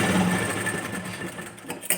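A sewing machine stitching pieces of a princess-cut, boat-neck blouse runs at a steady low whir, with a faint continuous hum and a short clatter near the end. Nobody speaks.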